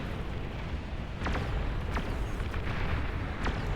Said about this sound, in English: It's getting hit by catapult rockets.